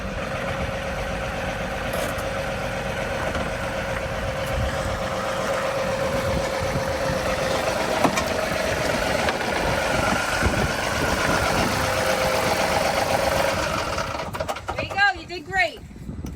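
A small John Deere tractor engine runs steadily through most of the stretch at a constant close idle-like drone, with some voices around it, then cuts off near the end.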